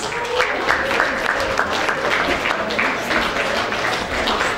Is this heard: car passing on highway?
no